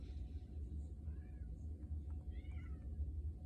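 A house cat meows twice in short rising-falling calls, faint and slightly distant, over a low rumbling background noise.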